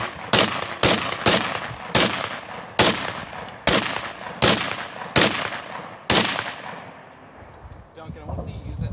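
A gun fires at an outdoor shooting range: about eight sharp, loud shots at an uneven pace, each with a quick decaying echo, and a quiet pause at the end.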